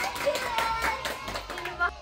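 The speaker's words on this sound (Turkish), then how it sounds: "Alkış" Children clap at a birthday party, just after the candles. The claps are quick and scattered under the chatter of young voices, moderately close and fairly soft.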